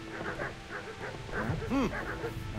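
Dogs barking in the medieval video game Kingdom Come: Deliverance, a series of repeated yaps and barks at moderate distance, with a few higher whining or honking calls toward the end over a steady game background.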